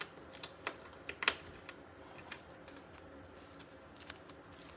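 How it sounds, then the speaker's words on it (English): Paper letters get taped down onto a box, heard as a scattering of faint, sharp clicks and crinkles over quiet room tone, with a few louder snaps near the start. "then I just tape my letters down"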